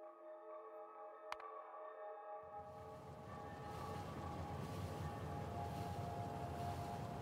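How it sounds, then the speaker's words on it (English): A train running in the Factorio video game: a low, steady rumble that swells in after a quiet tonal hum and keeps going as a continuous rolling drone, with no voices. "Very long train ride."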